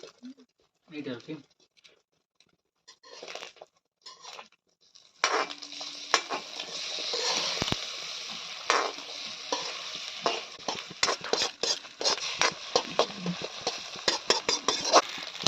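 Seasoned eggs fry in a pan for Tamil egg noodles, a close, loud sizzle that starts after a few quiet seconds of talking, broken by the repeated scrape and clink of a stirring spatula.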